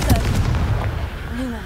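Confringo fire spell cast in the Hogwarts Legacy video game, giving a short burst like a gunshot or explosion followed by a booming rumble, alongside faint voice-like tones.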